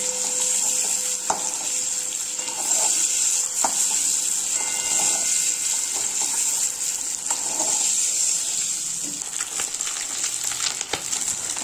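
Eggs frying in hot oil for a butter egg curry, giving a steady, continuous sizzle close up with occasional soft clinks and stirring noises, no talking.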